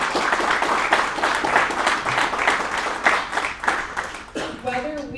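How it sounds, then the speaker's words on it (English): Steady round of applause from a town hall audience for school board of education candidates, continuous dense clapping throughout with a voice rising briefly near the end. "they all deserve a round of applause right now"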